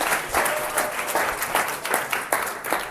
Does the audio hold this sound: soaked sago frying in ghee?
no